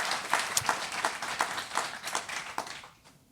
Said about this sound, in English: can we please just give this panel an advance round of applause?